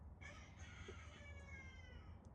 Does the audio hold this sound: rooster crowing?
yes